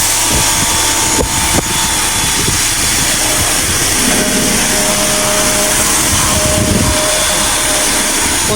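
A power sprayer cleaning a driveway gives a loud, continuous hissing roar throughout, close by, with small shifts in tone as the spray tip moves.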